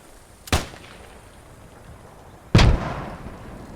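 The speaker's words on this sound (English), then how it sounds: "Maybe he got hit by the mortar." Two mortar blasts in the video game Post Scriptum, each a sharp booming impact about two seconds apart, the second closer and louder with a rumbling tail, over faint background noise.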